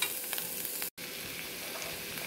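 Onions frying in a pan with red chili powder and turmeric, a steady close sizzle with scraping stir strokes and a momentary cut in the middle.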